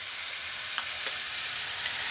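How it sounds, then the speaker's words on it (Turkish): Fenugreek (çemen) paste sizzles steadily in melted oil as it is stirred, a constant close frying hiss with a few faint scrapes, no voices. "Eridikten sonra çemeni böyle yağda karıştırıyorsun, yanmıyor."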